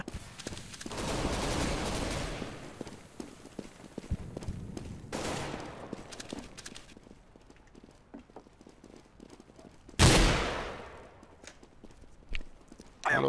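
Gunfire in a Counter-Strike: Global Offensive match on the Mirage map, with loud bursts of shots around the start, middle and end, separated by quieter in-game noise.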